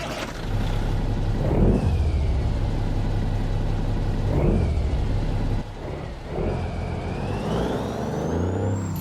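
A Peterbilt 362 truck in a truck simulator game, its diesel engine droning loud and steady with rising gear-shift whines and an air-brake hiss partway through as it pulls away and cruises.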